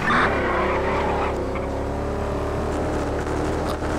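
Car driving on a freeway in a video game, a continuous loud engine drone with shifting tonal whine, steady throughout.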